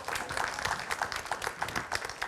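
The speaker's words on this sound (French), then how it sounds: "Et bien, vous savez quoi? On va vous applaudir. Et on va vous applaudir très fort." A seated audience at a study-day round table applauds, a faint but steady patter of many hands that continues throughout without any voices.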